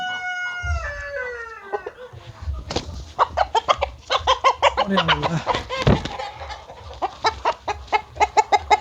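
Tiger chickens and roosters on a poultry farm cluck and call repeatedly, opening with a rising, drawn-out crow and followed by a rapid series of loud, close squawks and clucks.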